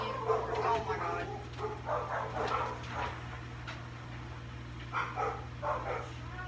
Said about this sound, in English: Most annoying dogs in the world.